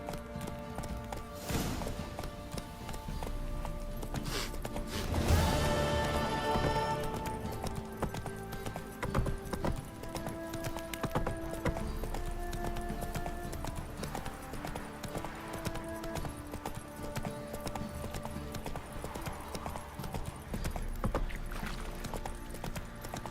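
Roach the horse gallops in The Witcher 3, hooves drumming in a steady, moderately close rhythm beneath continuous game music and ambience.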